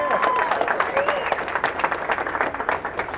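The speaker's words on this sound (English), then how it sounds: "let's give these guys a round of applause" Applause from a meetup audience after thanks to the DJ and food truck crew, a dense patter of clapping with some voices and whistles mixed in, steady and fairly close.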